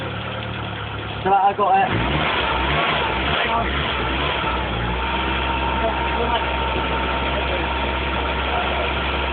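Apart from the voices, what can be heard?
Nissan Cherry engine revving at cold start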